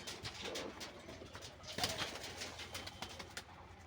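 Fancy pigeons at an open-range pigeon farm coo softly in overlapping low murmurs, with faint rustling and a brief flutter of wings against a quiet background.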